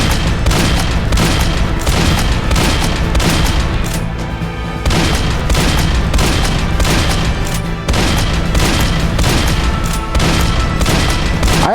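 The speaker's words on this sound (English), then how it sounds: "with this rifle, we can shoot these guys from miles away" Loud, continuous rifle fire and explosive booms from the Roblox-style game Dead Rails, heavy repeated shots packed tightly together with only a brief lull partway through.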